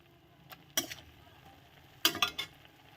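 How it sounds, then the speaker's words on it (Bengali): Spinach being stirred in a pan with a little salt, two clusters of quiet metallic scrapes and clinks of a utensil against the pan over a faint background, no talking. "লবণ দিয়ে একটু এটাকে নেড়ে নেব"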